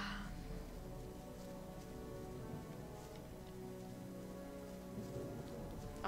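Steady rain pours down throughout in the Gothic video game, a dense even patter on surfaces with faint ticking droplets, continuous and moderately close with no talking.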